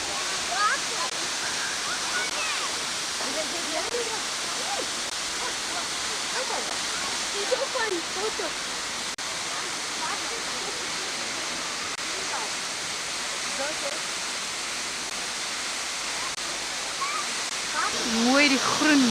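Water tumbles down a rock face streaked with green moss, a steady, loud, broadband rush that continues unbroken throughout, with a faint voice speaking over it now and then.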